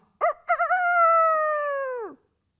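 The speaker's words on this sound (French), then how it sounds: "C'est le coq. The coq. Il est là." A rooster gives one loud, close crow, opening with a few short choppy notes that stretch into a long held tone before dropping off sharply, with silence on either side.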